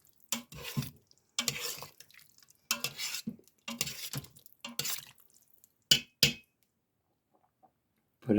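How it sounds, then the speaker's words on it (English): A spoon stirs Hawaiian meatballs in a pot in bursts of scraping and sloshing, separated by pauses, with a few sharp clinks near the end. "I'm going to grab a spoon. We're going to give this all a good stir."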